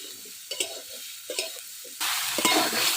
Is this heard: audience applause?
no